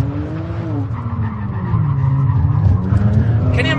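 Kia Stinger launching and drifting at a SEMA 2017 drifting experience, its engine roaring loudly with tyre squeal rising toward the end, under excited in-car chatter.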